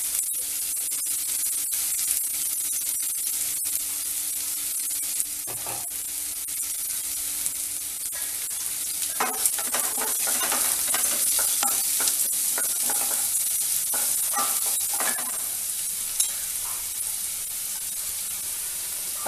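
Onions for wheat rava upma fry in a pan with a constant, bright hiss of sizzling oil, and irregular scraping stir strokes grow busier midway through, close and fairly loud with no talking.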